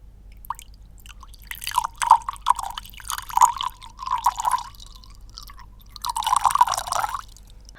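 Water poured into a container, heard as a series of close, bright drips and splashes that come in irregular bursts, with quiet gaps between them, over a low steady hum.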